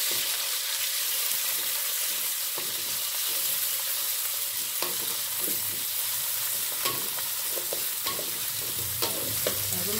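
Shrimp stir-fried in a pan on a home stove for orak arik rebung: a continuous loud hiss of frying with scattered scrapes and taps of a spatula.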